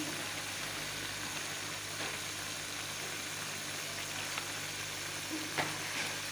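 Ginger paste frying in cooking oil for a green masala mutton karahi makes a continuous, even sizzle with a few light pops, close and moderately loud, with no talk.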